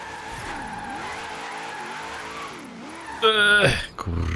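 A Land Rover Series III drifting in the Forza Horizon 3 racing game on a rain-soaked road, its engine droning and wavering steadily before a sharp, loud burst of tire screech near the end.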